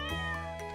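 A pet cat in the Stardew Valley farming game gives a single short, clear meow, close and alone.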